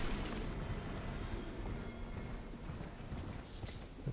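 Horse hooves clip-clop steadily in the Elden Ring video game, a continuous trotting rhythm with a brief whinny, loud and close over dense in-game ambience.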